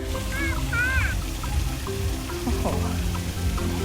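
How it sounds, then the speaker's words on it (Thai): Artificial waterfall at an outdoor skate park, a steady broadband rush of falling water running continuously at moderate level, with chirping birds and faint voices scattered over it. "เป็นน้ำตกจำลองนะสวยมากเลย"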